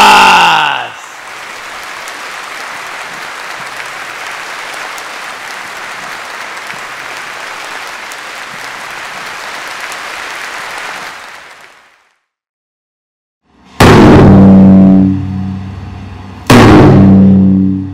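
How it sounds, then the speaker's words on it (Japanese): A large audience applauds loudly and steadily at a rally-style event in Japan, the clapping sustained for about eleven seconds before fading into silence, followed by two bursts of loud amplified sound with voices. "もう一度大きな拍手をお願いします"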